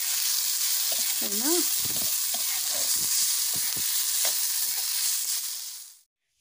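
Fish curry with turmeric and red chili fries in a pan with a loud, steady sizzle while a spoon stirs and scrapes in irregular knocks. A voice says a brief word over it, and the sound cuts off at the end.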